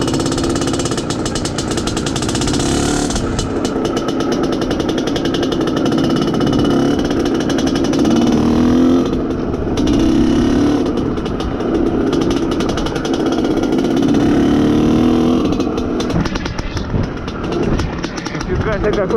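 An Izh Planeta Sport motorcycle engine runs continuously on a break-in ride, a loud, steady close-up rumble with slight pitch swells as the throttle varies, mixed with rushing wind and road noise throughout.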